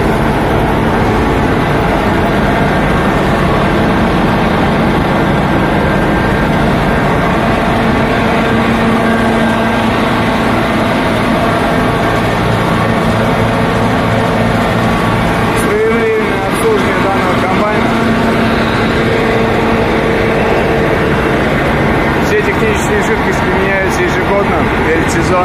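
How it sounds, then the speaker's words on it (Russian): A Yenisei-950 combine harvester engine drones on at a constant, even pitch throughout, with a person talking over it. "Двигатель работает тихо,"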